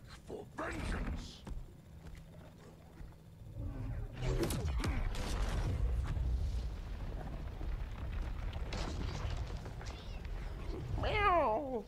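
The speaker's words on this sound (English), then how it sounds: "I like his little cat." A cat meowing in the fighting game Injustice 2, several clear meows between rumbling, creaking game effects and a low booming background, with some character voices heard.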